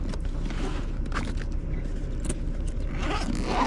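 A backpack zipper being pulled open, a continuous close scraping rasp with a low rumble beneath it for a few seconds.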